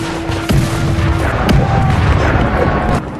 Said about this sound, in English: bombarded Ottoman positions with heavy artillery